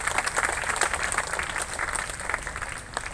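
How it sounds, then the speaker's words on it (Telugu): Students at a school assembly clapping together in dense, continuous applause that holds steady for a few seconds at moderate distance. "వారికి ఒకసారి చప్పట్లు కొట్టాడు అందరూ"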